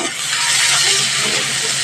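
Chopped onions and a spoonful of five-spice seeds frying in hot oil, giving a steady, loud broadband hiss that holds evenly for about two seconds with no talking.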